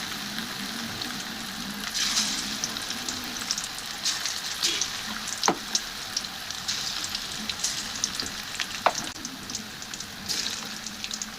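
Chicken pakoda pieces deep-frying in hot oil, a continuous crackling sizzle with brief sharper pops, steady and fairly close, no talking.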